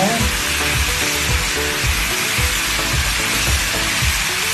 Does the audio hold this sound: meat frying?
yes